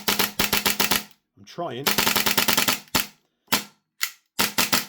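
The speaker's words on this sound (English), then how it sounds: "The gun will cycle faster than your finger can pull it." Arcturus Osprey Hi-Capa split-slide airsoft pistol firing in fast bursts of sharp, snappy clacks, several rapid strings with a few single shots near the end; a voice speaks briefly between bursts.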